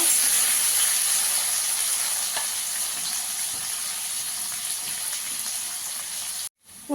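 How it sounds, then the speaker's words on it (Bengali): Potatoes fry in hot oil with a steady, loud sizzle and crackle that keeps going with no talking, then cuts out briefly near the end. "আলুটাকে একটু লাল করে ভেজে নেব"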